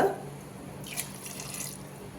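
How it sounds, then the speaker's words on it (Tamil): Two glasses of water poured into a cooking pot for rice and toor dal rice, a running, splashing pour that swells partway through, alone with no talk. "அதுக்கு ரெண்டு கிளாஸ் தண்ணி விட்டுக்கிறேங்க"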